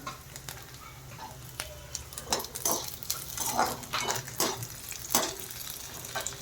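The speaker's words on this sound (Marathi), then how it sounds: "कांदा सोनेरी रंगावर परतून घ्यायचा आहे चांगला" Onions with garlic frying in a pan for a Maharashtrian katachi amti, with stirring scrapes and light clinks of a utensil against the pan over a low, steady sizzle, close by and moderately loud.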